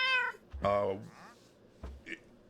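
A cat in the Minecraft video game gives a clear, fairly loud meow, followed by a second shorter meow and a faint trailing mew, heard alone without talk.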